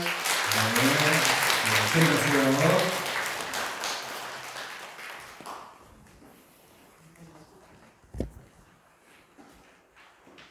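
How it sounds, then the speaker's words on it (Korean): A church congregation applauds during a Sunday worship service, full clapping for several seconds that fades into quiet room sound with a brief spoken word and a single thump. "다시 한번 크게 박수를 격려해 주시기 바랍니다"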